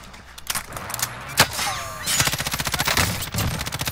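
Gunfire in the shooter game Call of Duty Warzone: a few sharp shots, then a fast automatic burst of rapid rhythmic rounds, close and loud, with no talking.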